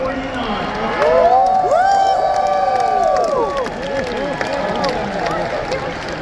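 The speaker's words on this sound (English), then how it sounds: "And by the way, this is how the crowd reacted." A large audience at a tech keynote cheers and whoops at the RTX 5070 graphics card price reveal, a loud swell of shouting and applause that rises quickly and then tapers off.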